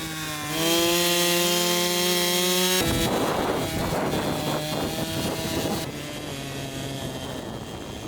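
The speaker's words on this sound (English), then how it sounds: "using a chainsaw to cut a triangular hole in the ice to gain access to the water" A loud chainsaw engine drones steadily, then bites into lake ice with rough, rasping cutting noise that continues for several seconds.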